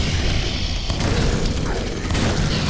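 Gunfire in the Prodeus video game, a dense, continuous barrage of booming shots that sounds loud and close throughout, with no pauses between the blasts.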